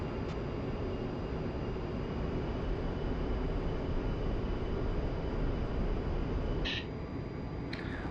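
A military jet in the DCS flight simulator game takes off with a loud, steady, broadband engine roar that continues throughout, with a brief thinner click-like burst near the end.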